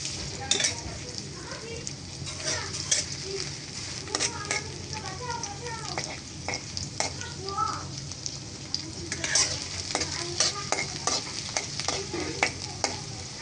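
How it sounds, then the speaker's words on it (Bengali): Chopped onion and garlic fry in soybean oil in a wok in a village kitchen, a steady close sizzle with repeated stirring scrapes and clinks throughout. "পেঁয়াজ কুচি আর রসুন কুচিটা দিয়ে দিলাম তারপর আমি ফ্রাই করে নেব"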